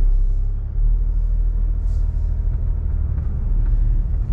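Toyota GR Yaris engine droning steadily while driving, a dense low rumble from inside the cabin with no talk.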